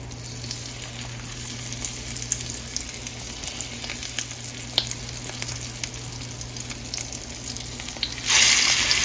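Salmon fillets fry in a large skillet with a steady, loud, continuous sizzle and crackle throughout, swelling suddenly louder near the end as the fish is moved in the hot pan.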